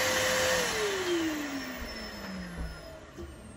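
A Numatic Nuvac VNP180-2 vacuum cleaner is switched on at the machine, its motor whine sweeping downward as it settles into a steady, moderately loud, close hum, with no talking.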